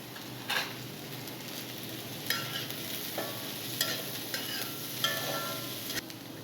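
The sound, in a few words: beans being stir-fried for veg fried rice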